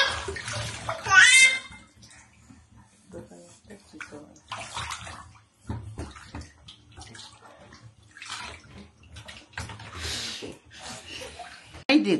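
Water splashing and sloshing as a small child is bathed, soft intermittent splashes close by, with adult voices talking playfully over them.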